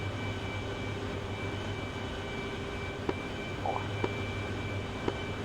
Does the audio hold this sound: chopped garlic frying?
no